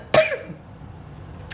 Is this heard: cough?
yes